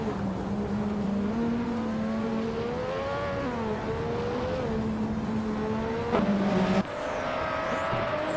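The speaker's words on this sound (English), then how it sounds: "ngo McCringleberry is driving an Osella F1L, a car known for its lightweight design and agility." Race cars, including an Osella F1L, circuit racing with sustained high-pitched engine whine and rising, falling revs throughout, several cars overlapping, plus a sharp burst near the end.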